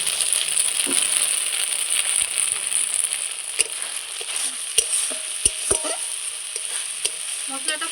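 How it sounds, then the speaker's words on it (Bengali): Ground paste of ginger, cumin, dried red chili and garlic stir-fried with browned onions in a pan, a bright steady sizzle with occasional sharp clinks and scrapes of a spatula, no voices. "মশলাটা খুব সুন্দর কষিয়ে নিয়েছি।"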